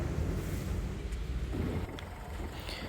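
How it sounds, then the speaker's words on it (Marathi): A tractor engine runs continuously with a deep, steady rumble while sowing a field, mixed with outdoor wind noise and no talking. "बघा कसं चालू आहे ट्रॅक्टर"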